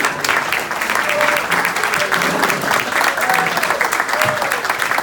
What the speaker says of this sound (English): give them a big applause, will you please?